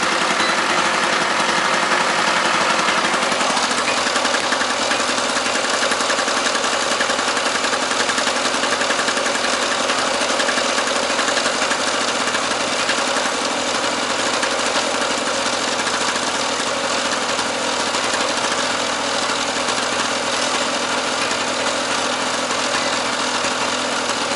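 A petrol generator engine runs steadily throughout, a loud continuous mechanical drone with a rough, rattling texture and no talking.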